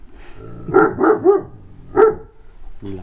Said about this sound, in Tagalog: Ayan ang mga Great Dane.